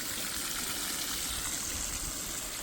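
Water from a motor pump flows steadily through a guava field, a constant broadband rushing and splashing that stays loud and even throughout, with no voices.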